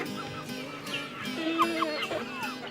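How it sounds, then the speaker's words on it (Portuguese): Farm chickens cluck steadily at feeding time as a keeper fills their feeders with ration, a close, busy chorus of short overlapping clucks and calls with no talk. "As galinhas também devoram rapidinho a refeição."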